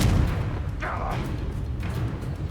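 Confringo blasting spell explosion in Hogwarts Legacy, two short booming bursts about a second apart, sharp and fairly loud over a low background rumble.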